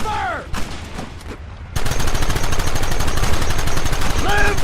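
Red Dead Redemption shootout as a dense, continuous barrage of gunfire erupts after a short quiet lead-in, loud and sustained to the end, with shouted voices at the edges.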